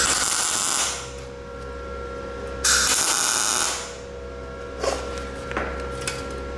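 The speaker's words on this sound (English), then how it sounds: "I'm going to weld it, tack it down, and then see what sort of a weld we can get out of this machine" A Synergic Autoplus 130 dual process welder on standard MIG at about 40 amps tacks steel: crackling hissy bursts about a second long, separated by low machine hum, then a couple of short snapping tacks.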